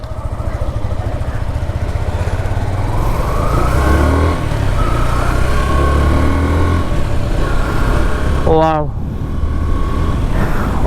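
A Yamaha FZS V3 motorcycle in matte red runs at a low steady rumble while being ridden, engine drone continuous under a rider's talking and an exclamation, with wind noise throughout.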